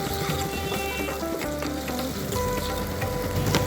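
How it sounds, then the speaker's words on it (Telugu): Green chilli pieces and curry leaves frying in a pan for a radish fry, giving a steady, close sizzle throughout with no talking. "పచ్చిమిర్చి ముక్కలు, కరివేపాకు వేసి వేగనివ్వాలి"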